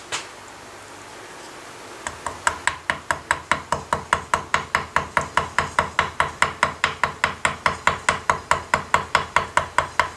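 A gunsmith in colonial Williamsburg drives a chisel with a hammer, sharp metallic strikes repeating at a steady quick rhythm, about three per second, close and clear with no talk.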